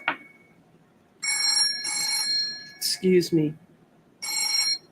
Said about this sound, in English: it sounds like an old-fashioned British phone